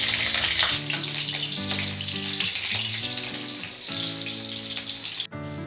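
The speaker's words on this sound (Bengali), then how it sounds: "এবার আমি ওই তেলের মধ্যে আলুগুলো ভেজে নেব।" Potatoes frying in hot oil left over from soybean muithya, a steady close sizzling hiss that runs under background music for about five seconds before cutting off abruptly.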